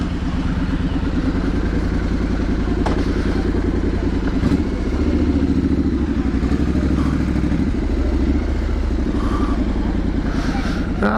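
A Victory motorcycle and a KTM rumble nearby, their engines idling with a steady low throb and occasional clattering thumps, loud and continuous throughout.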